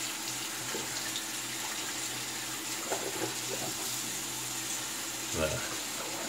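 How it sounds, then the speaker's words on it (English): Tap water runs steadily over a Merkur 34C safety razor blade during a rinse after a shave, a continuous watery hiss from start to end with a brief louder splash near the end. "Get the blade rinse underneath here too."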